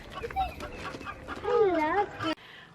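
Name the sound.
chickens clucking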